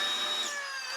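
A toy blaster revving up to activate a Smartgun proton pack, a brief close whirring motor whine with rising tonal pitches over one second.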